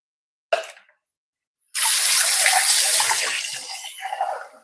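After a brief soft knock, water pours steadily and close up into a bowl of rice batter for ghavane, a continuous splashing stream lasting a few seconds.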